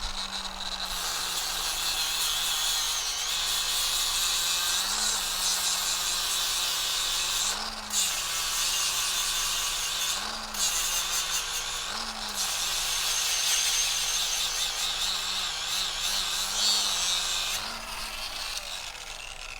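Metal is ground with a Tyrolit Cerabond X coarse ceramic grain disc, giving a continuous loud hissing grind with a rising and falling motor pitch across repeated passes.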